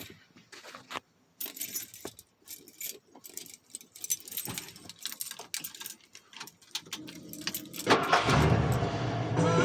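A hot Ford 302 V8 converted from EFI to a carburetor cranks and fires after some key jangling and clicks, then catches into a loud, steady idle that runs to the end.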